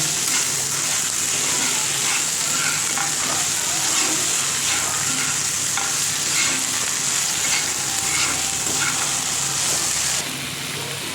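Spiced curry with lentil dumplings being stirred and sautéed in a pan: a loud, steady, close sizzle with bursts of crackle and occasional stirring scrapes, easing slightly at the very end.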